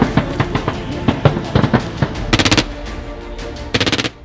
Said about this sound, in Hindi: गोलियों की ये गड़गड़ाहट अपने आप में ये बता रही है